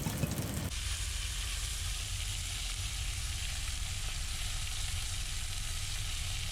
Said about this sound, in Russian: Рыбка, окунь жареный у нас сегодня.